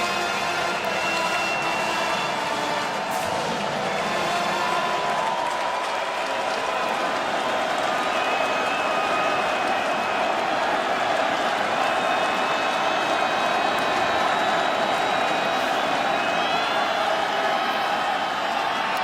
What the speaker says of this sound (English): crowd here getting up for 3rd down.